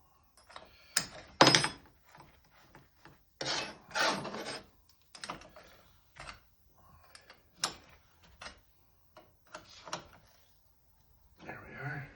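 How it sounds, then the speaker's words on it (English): A wrench works a stuck fitting on a cast iron straight edge in a series of scattered metallic clicks, scrapes and ratcheting rasps, close and fairly quiet, with short pauses between bursts. "it's stuck, so I have to use a wrench on it"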